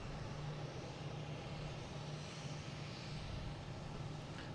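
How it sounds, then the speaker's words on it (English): A Southwest Boeing 737 MAX 8 taking off at Boston Logan International Airport, a faint, steady, broad jet engine roar with a low rumbling hum that holds throughout. "we have a Southwest taking off, hitting the Baltimore, Washington, flight 1898"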